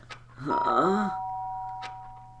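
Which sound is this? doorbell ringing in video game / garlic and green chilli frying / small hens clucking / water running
doorbell ringing in video game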